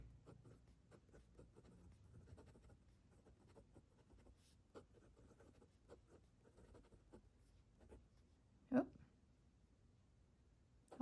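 A Pilot Custom fountain pen with a fine nib, inked with Konpeki, scratches across paper in a steady run of soft, close strokes, with one sharper tap near the end.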